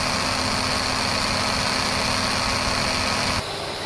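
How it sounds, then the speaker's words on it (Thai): Air conditioning compressor on a Ford Escape V6 running at idle, a steady mechanical drone with a faint whine over the low engine rumble, abruptly dropping in tone near the end as the compressor cuts out. "จะได้เห็นทั้งรอบเดินเบาและรอบตอนเร่งเครื่องนะว่า เสียงคอมเป็นยังไง"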